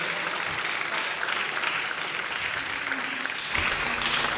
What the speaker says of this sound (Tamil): ஒரு பலத்த கைத்தட்டலுடன்